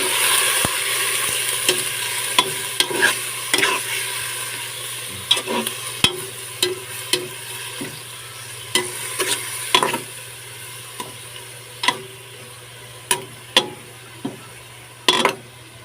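Pork fries in a pot with onion and garlic as the base for sinigang, a continuous sizzle broken by sharp scraping clinks of a spoon stirring against the pot at irregular intervals, close up.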